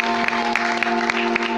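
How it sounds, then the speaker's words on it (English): Church congregation applauding during a sermon, a steady dense patter of many hands with a few sharper peaks and a sustained hum underneath, fairly close and continuous. "Let us applaud for the word of the Lord."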